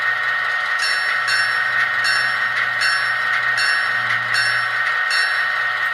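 A Kato Olympian Hiawatha model train's sound decoder plays a clanging locomotive bell, ringing in a steady repeated rhythm over a constant engine hum, close and fairly loud.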